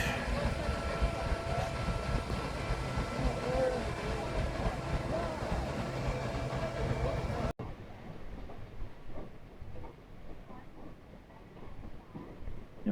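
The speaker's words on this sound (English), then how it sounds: "watching the train take off" A train pulls away from a heritage park station with a broad rumble and mechanical noise that cuts abruptly to a quieter, distant low drone.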